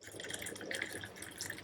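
Water poured into a mug of thick whipped coffee, a steady close trickling and splashing pour lasting under two seconds with no talk.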